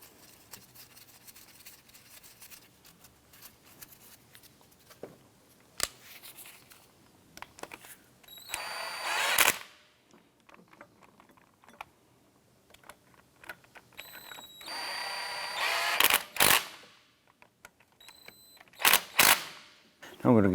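Power steering pump bolts on a 2004-2008 Acura TL are snugged down with a ratchet: quick bursts of clicking in three separate spells, between scattered tool taps and someone talking.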